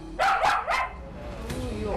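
A pet dog barks suddenly indoors, three sharp, close barks in quick succession, followed by quieter whimpering and room noise.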